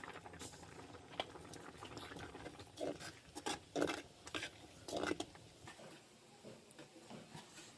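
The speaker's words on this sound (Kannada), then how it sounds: "ಕುದಿಯಾಕತ್ತಾವ ನೋಡ್ರಿ ಹ್ಞೂ ಎಲ್ಲ ಪುಂಡಿ ಪಲ್ಲೆ ಕೂಡ ಕುದಿತಾವನ" Chopped sorrel greens (pundi palya) boil in a pot, a faint, soft bubbling with intermittent louder bursts of gurgling and spitting, heard up close with no voices.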